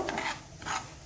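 Semolina being stirred and roasted in a pan over medium flame, two soft scraping passes of a spoon across the pan, quiet and close.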